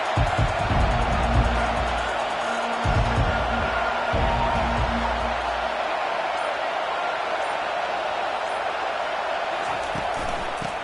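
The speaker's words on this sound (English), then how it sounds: "This crowd trying to make life miserable for this offense." A stadium crowd in a football video game, a loud, steady roar of cheering and noise that holds throughout, with a few low thumps in the first half.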